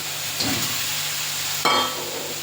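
Fish drops into hot, oil-rich fried spice paste in a pan, setting off a sudden sharper sizzle over the steady background frying hiss; no talking.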